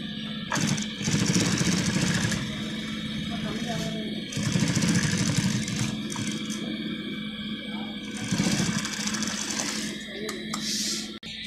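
A tailor's sewing machine stitching a thick leg seam with black thread, its motor running in steady loud bursts with brief pauses between runs.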